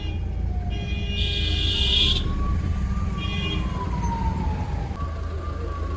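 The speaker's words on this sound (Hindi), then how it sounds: "एम्बुलेंस को रास्ता दिया जा रहा है।" An ambulance siren wails slowly up and down in the distance over a steady rumble of traffic and engine noise on a road in India.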